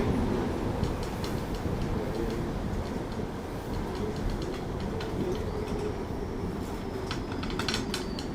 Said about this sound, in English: And here we see the tram.